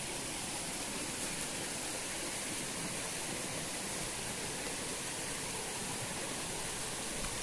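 Monsoon runoff from four streams above pours into a rocky pool in the Ratnagiri countryside, a constant dense rushing roar of falling water, steady and unbroken with no voices.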